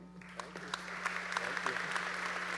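Audience at a high school graduation ceremony breaking into applause, clapping building quickly and holding steady, with a low hum underneath.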